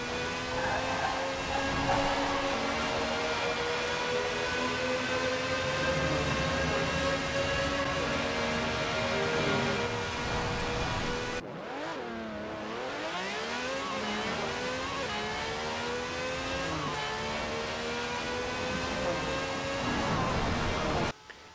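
An over-1,000-horsepower car accelerating in Forza Horizon 4, a steady loud engine roar with rising harmonic sweeps through repeated gear changes and a brief dip mid-run, continuous and up close with no talk.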